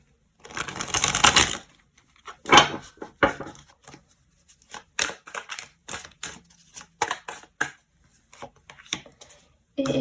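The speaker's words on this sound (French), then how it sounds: "Je vais tirer encore une carte du tarot pour venir compléter tout ça." A tarot card is drawn during a reading, with shuffling and card handling heard as a long papery riffle followed by scattered close taps, flicks and slaps of cards, with no talking.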